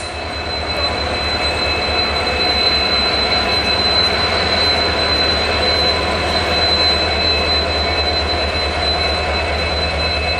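Diesel locomotive WDP4D standing at Nanded station, a loud steady engine rumble with a constant high whine that continues evenly and close without any talk.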